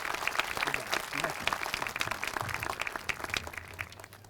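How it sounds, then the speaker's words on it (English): A school audience at an Arbor Day event at an elementary school gives a round of applause for sixth grade students who wrote poems, with scattered claps under an amplified voice talking over them. "I have another round of applause for all of our 6th grade students that wrote their own poems today."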